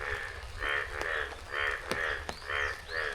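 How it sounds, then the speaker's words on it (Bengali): Frogs croak in a steady, repeating chorus of rasping calls in a village after rain, close and fairly loud, with a few sharp clicks between them. "ব্যাঙ ডাকাডাকি শুরু হয়ে গেছে"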